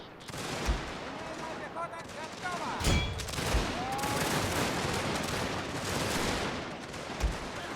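Massed musket volleys from troops in the strategy game Total War, a dense, continuous crackle of many shots with heavier booms now and then, rolling steadily at mid distance.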